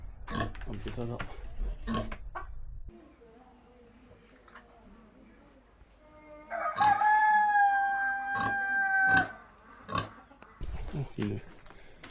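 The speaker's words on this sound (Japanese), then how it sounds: "あ、豚だ。" Pig grunting and squealing in a rural Chinese village, heard outdoors at moderate distance alongside rooster and chicken sounds, with people talking before and after.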